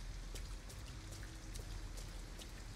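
Steady rain pours without pause in the Detroit: Become Human video game, a dense broadband wash dotted with brief droplet taps and spatters, fairly faint and even throughout, with no voices over it.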